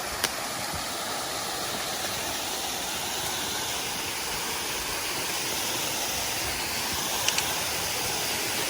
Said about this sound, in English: I think it's part of the Gale River.